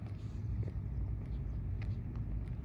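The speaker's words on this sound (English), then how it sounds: "Another loud car drove out behind me." A loud car drives out from behind on a street, a broad low rumble that holds steady and close throughout with faint scattered sounds above it.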